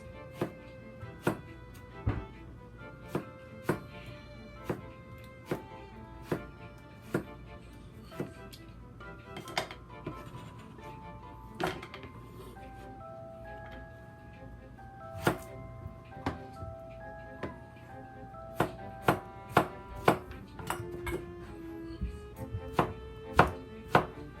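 A knife slices yellow squash on a cutting board, with sharp, evenly spaced chops that speed up into quicker bursts later, all set against soft background music.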